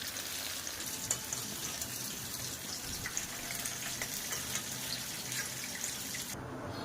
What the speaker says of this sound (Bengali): এবার ইঁচড়গুলোকেও ভাজা করে নেব।